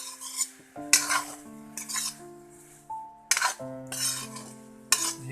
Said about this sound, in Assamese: এনেধৰণে ইয়াতে ভাজি থাকিব লাগিব।